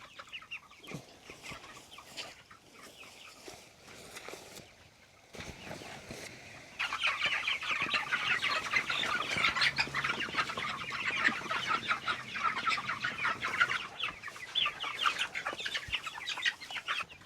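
Cornish chickens cluck and chatter on a wet, rainy farm, quiet and scattered at first, then a denser flock of clucks swells up close and keeps going busily.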